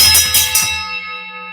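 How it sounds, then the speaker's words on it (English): A handheld bell rings quickly three times to open a Friday midday stock market report. Its bright, sustained tones hang in the air and fade out gradually after the last strike. "let me ring the bell here"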